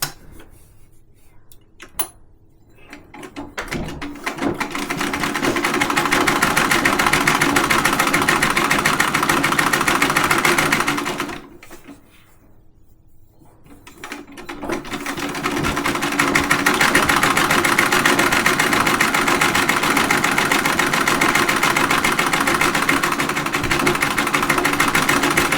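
A treadle sewing machine stitches binding onto a quilted table topper with a loud, steady, rattling whir that runs in two long stretches, separated by a brief pause. No one speaks.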